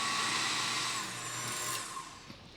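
A food processor whirls a dry mix of flour, sugar, cinnamon and salt for struffoli dough, giving a steady motor whine for about two seconds before winding down, close and with no talk.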